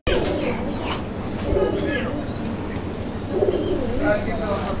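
Paper pigeons (kagji kabutar) kept for sale coo in repeated low throaty phrases close by, mixed with other birds, and someone talks over them.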